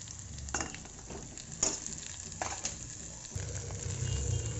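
Chopped okra frying in a mustard-seed and cumin tempering with green chili, a loud close sizzle broken by scraping stirs and clattering spoon strokes, rising toward the end with no voices.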